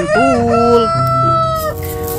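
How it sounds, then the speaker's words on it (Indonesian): A rooster crows loudly and close by, a single drawn-out cock-a-doodle-doo with a rising start and a long sustained call. A brief spoken word overlaps it. "Ada ayam berkokok"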